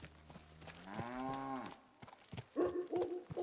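A cow in Kingdom Come: Deliverance 2 lets out a long, rising moo at close range, followed by softer grunts and low animal calls.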